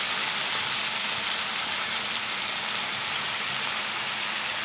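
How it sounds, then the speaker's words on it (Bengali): Cauliflower and potatoes fry together in a pan, giving a dense, even sizzling hiss that stays loud and unbroken throughout. "একসাথে ভেজে নেব ফুলকপি আর আলু।"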